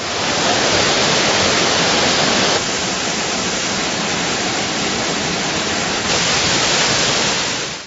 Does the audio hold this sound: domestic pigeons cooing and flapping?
no